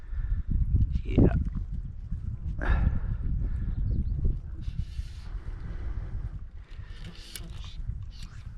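Wind blows outdoors during a fly fishing outing, rumbling steadily across the microphone in uneven gusts while someone talks over it.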